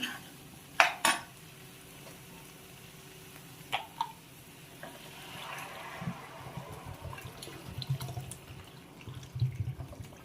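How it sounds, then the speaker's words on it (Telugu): Water pours into a pan of cauliflower curry and is stirred, with sharp metallic clinks of a spoon against the pot, scraping and sloshing at moderate, close range. "ఇలా బాగా కలుపుకున్నాక అప్పుడు ఒక 2 glasses వాటర్ వేసుకోండి"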